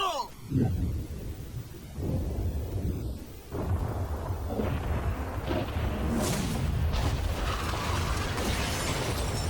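A yacht blown up as part of a challenge, a loud boom at the start followed by sustained rumbling, crackling blast noise and debris that continues steadily to the end.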